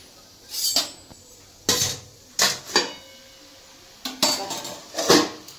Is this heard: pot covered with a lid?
yes